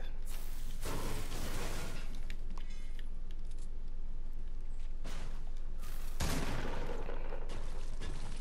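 Gunfire in the Fortnite video game, with two dense bursts of shots and a few scattered single pops between them, loud and close with no talking.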